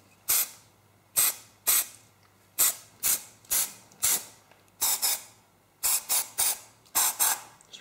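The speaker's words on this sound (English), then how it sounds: "You'd spray that in the silicone mold to make sure that the resin doesn't stick to the silicone" Repeated short hissing spray bursts of mold release into a silicone mold, about a dozen, in an irregular rhythm with quiet gaps between them, close and clear.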